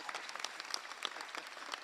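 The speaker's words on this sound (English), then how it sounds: "Give a round of applause." Brief, faint round of applause at a Philadelphia town hall meeting: a scattering of distinct claps from a modest audience, lasting under two seconds and heard on its own.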